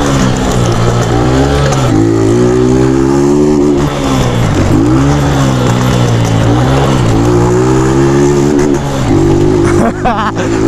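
A motorcycle engine fitted with a new CDI ignition is revved hard and loud up close, its pitch rising and dipping through repeated throttle blips while riding.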